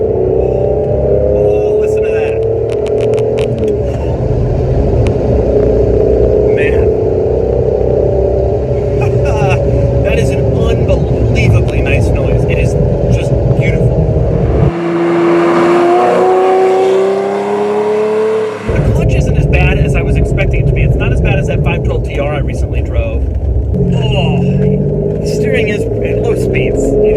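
A Ferrari Testarossa's engine hums and revs steadily from inside the car, its tone rising and falling with the driving, while people talk over it through most of the stretch.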